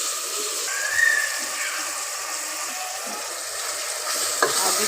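Tomatoes and onions frying in a pan give a steady, close hiss of sizzling oil, with occasional soft scrapes from stirring and a brief clatter near the end.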